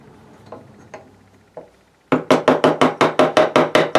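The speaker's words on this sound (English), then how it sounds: "Now it's just a matter of taking the chisel," Chisel chipping out wood between drilled holes, a few light taps followed by a steady run of about ten sharp, evenly spaced mallet-driven knocks, close and loud.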